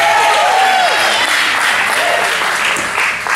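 A church congregation applauds and cheers for baptisms during a lively worship service, with dense, loud clapping throughout and a few voices calling out over it.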